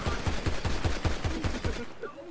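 Gunfire in a video game shootout: a rapid, evenly spaced burst of about ten shots, moderately loud and close, then tapering off into quieter game sounds.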